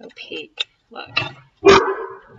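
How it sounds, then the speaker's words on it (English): Dogs bark indoors in a few short, sharp bursts, one louder bark near the end, mixed with a person talking. "Sorry about the dogs barking."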